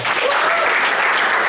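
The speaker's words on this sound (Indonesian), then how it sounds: "Tepuk tangan dong Prudential." A seminar audience at a Prudential event claps in a dense, loud, continuous burst of applause lasting a moment.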